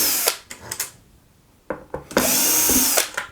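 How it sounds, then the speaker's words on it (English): Power screwdriver fitted with a T9 bit backing out screws on an Xbox One S, several short whirring bursts followed by a longer sustained whine, loud and close. "So you need to get a screwdriver with a T9 bit in it,"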